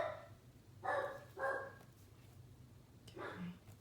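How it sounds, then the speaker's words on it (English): A small pet dog barks indoors in short bursts, answering a little puppy barking outside, with three or four sharp yaps separated by quiet pauses. "There's a little puppy outside barking, so she's setting off my dog."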